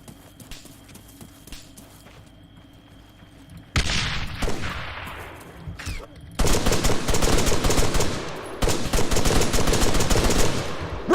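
Gunfire in the military shooter game Arma 3: after a quiet stretch, loud dense bursts of automatic fire crackle in rapid rattling strings, near and sustained, with brief pauses between volleys and no talk.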